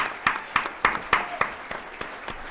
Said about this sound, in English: Freedom clap.